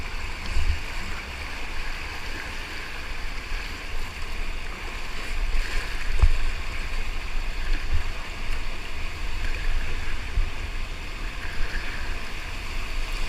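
Steady broadband rush of turbulent river rapids on the South Fork American River at 5000 CFS flow, continuous and fairly loud throughout, with faint wind and occasional splashes.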